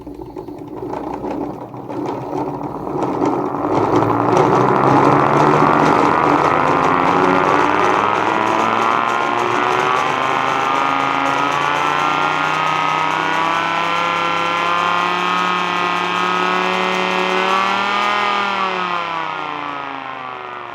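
A blue 3D printed air raid siren winds up into a loud, sustained wail with rich harmonics, holding a steady howling pitch before the tone sags and spins down near the end, heard alone with no talking.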